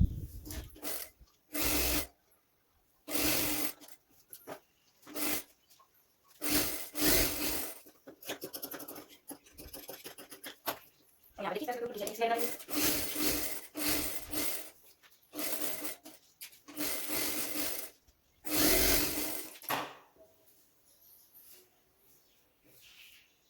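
A sewing machine stitches a short kurti top, running in several separate bursts of a few seconds each, separated by pauses, fairly quiet and close.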